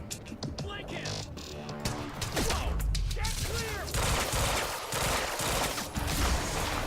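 Rapid gunfire in the video game Quantum Break as an enemy is shot many times, bursts of sharp shots and impacts with an explosion, loud and busy, with a player talking over parts of it.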